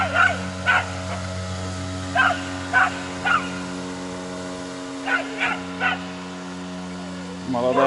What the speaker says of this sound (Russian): Молодая собака сидит, лает.